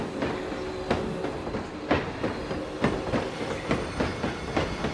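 Train ride rolling on rails in the Planet Coaster park-building game, with a steady rhythmic clickety-clack of wheels over track joints repeating roughly every second under a continuous rumbling hum.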